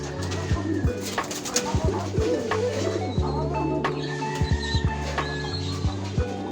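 Pet pigeons coo inside a loft in the Philippines, low throaty pulses repeating in an uneven rhythm from several birds close by, with soft rustling and faint background noise.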